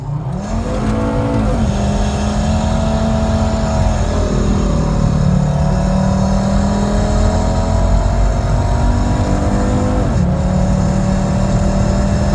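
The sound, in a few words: Volvo car driving and accelerating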